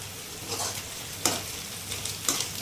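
Sliced onions soften in a frying pan for an egg and garlic chili dish, giving a soft steady sizzle. Two crisp spoon scrapes stand out where the onions are turned.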